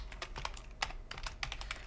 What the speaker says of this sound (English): I wanna type in my currency pair.